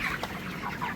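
Broiler chickens about a month old on a poultry farm cluck softly while eating freshly given feed, a brief murmur of low calls.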